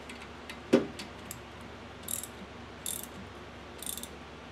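A 16mm socket ratchet snugs down the wiper motor bolts on a 2004 Chevrolet Silverado, giving one sharp clack followed by three short bursts of quick ratcheting clicks, close and distinct over a faint background, with no talking.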